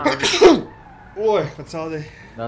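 A person sneezes loudly once during a GTA V Online gaming session, a sharp burst followed by people talking nearby.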